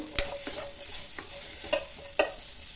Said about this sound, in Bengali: চলো তো মিডিয়াম এ একটু ভেজে নেব